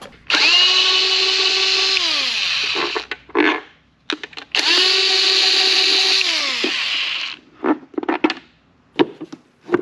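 A power drill works on the airbox of a Mercury 50hp outboard motor. It gives two long, loud whining runs whose pitch sags as they wind down, then several short, sharp bursts and clicks, close up and with no talk over it.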